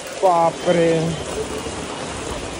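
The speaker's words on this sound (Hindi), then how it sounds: "बहुत बारिश हो रही है" Heavy evening rain in Mumbai near Marine Drive gives a steady close hiss of downpour, opened by a short spoken exclamation from a man before the rain carries on alone.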